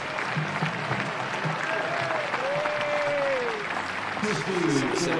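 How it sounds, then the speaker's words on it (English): A cricket crowd applauds a batsman reaching fifty during a high-scoring One Day Cup semi-final, steady broad clapping and cheering filling the ground, with a commentator's voice running over it. "crowd just well, rising to celebrate that 50 from Lewis Goldsworthy"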